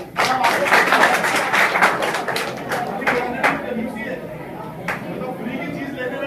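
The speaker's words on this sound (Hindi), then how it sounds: "वेरी गुड, ताली बजाओ।" Students clapping in a coaching-centre classroom, a lively burst of hand claps that is loudest at the start and then thins into scattered, separate claps, with voices murmuring underneath.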